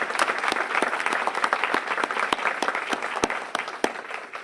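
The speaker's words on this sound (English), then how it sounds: "another round of applause, because it wouldn't have happened without you all" Sustained applause from an audience at a school district board meeting celebrating a passed bond package, dense steady clapping with a few sharper claps, moderately close and without speech.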